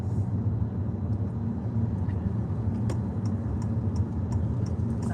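A car's turn signal ticks in a regular rhythm of faint clicks over the low, steady rumble of a car cabin during a driving test, with no talking.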